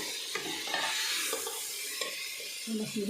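Rice and peas fried together in a pan for paneer pulao, a steady soft sizzle broken by occasional spoon scrapes and stirring knocks near the end.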